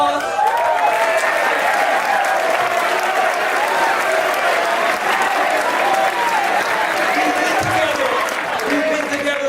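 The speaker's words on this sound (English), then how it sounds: "Everybody give her a round of applause." An audience applauds with dense, continuous clapping that stays steady and loud throughout, a few faint voices mixed into the crowd noise.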